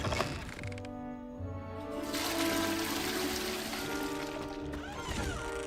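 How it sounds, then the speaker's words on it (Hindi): A toilet flushing in the video game Hogwarts Legacy, a continuous watery rush and trickle with some mechanical clicks over steady game music, fairly close and moderately loud for several seconds. "फ्लश कर सकते हैं बिना हाथ लगाए।"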